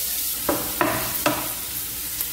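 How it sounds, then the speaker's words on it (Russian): Onion fries in vegetable oil in a pan, a soft steady sizzle broken by a few sharp scrapes and clacks as it is stirred, close by and with no talking. "Отправляем на сковородку растительное масло. Обжарим лук до мягкости."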